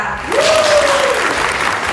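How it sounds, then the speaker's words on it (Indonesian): Loud, steady audience applause after a special performance at a hosted event, dense clapping filling two seconds, with a brief whoop or cheer rising over it. "Berikan tepuk tangan yang luar biasa"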